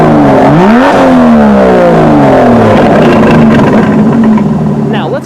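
In Sport Plus mode, the Aston Martin DB11 exhaust snaps through a couple of quick, loud blips, then drops into a throaty, rumbling idle that tapers off near the end.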